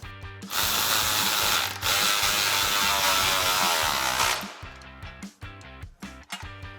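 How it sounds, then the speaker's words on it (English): A ratchet with a 15mm socket tightening an exhaust clamp on a 2021-2022 Ford F150 5.0L, heard as a loud, close run of rapid clicking lasting about four seconds, then a few separate clicks. "And taking your 15mm socket, tighten that clamp down."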